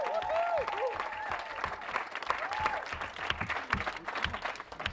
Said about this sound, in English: Ladies and gentlemen, big round of applause for the crew